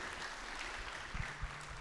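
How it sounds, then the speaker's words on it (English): Audience applause at a school's new family orientation, a soft continuous wash of clapping heard from a distance, steady and fairly faint throughout with a few brief bumps near the end. "Big round of applause"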